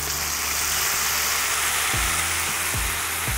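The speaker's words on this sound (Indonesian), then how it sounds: "Kita tumis sampai aromanya keluar." Ground spice paste sautéing in a pan for Indonesian beef malbi, a loud, continuous close sizzle and hiss with a few low thumps from stirring underneath.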